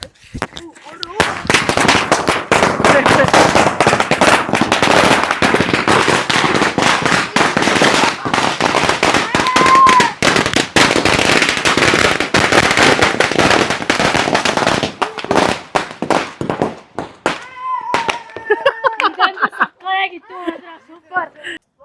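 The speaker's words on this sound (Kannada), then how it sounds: "ಲಾಸ್ಟ್ ಫೈನಲ್ ಪಟಾಕಿ" A long, dense string of Diwali firecrackers crackles and bangs loudly, then thins to scattered pops as voices come through at the end.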